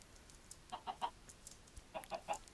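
Two short bursts of chicken clucking in Minecraft, each a quick group of three clucks, the first near the start and the second toward the end, with quiet in between.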